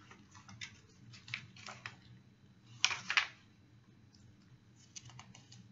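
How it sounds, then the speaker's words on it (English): Someone types on a computer keyboard, producing soft, close key clicks in uneven bursts with short pauses, then a louder cluster of clacks in the middle. "I need to type up some of my sermons that I got from my journal."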